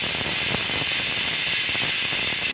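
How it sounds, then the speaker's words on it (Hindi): A kitchen pressure cooker whistling while desi khichdi cooks, a loud continuous high steam hiss that holds steady and then cuts off abruptly at the end. "यह हमारी कुकर की सीटी हो गई है"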